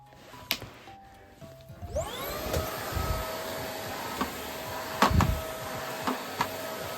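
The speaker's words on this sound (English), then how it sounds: "we'll just do a bit of vacuuming with him" A Numatic NBV190 battery vacuum cleaner, found in a skip, starts up after a few knocks and settles into a steady, fairly quiet whine, with bumps and thuds as it is pushed around nearby.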